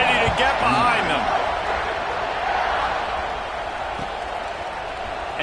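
A large crowd roars steadily at a college football stadium as Notre Dame and Ohio State line up for a kickoff in the fourth quarter, a dense sustained wash of cheering that continues throughout with voices mixed in.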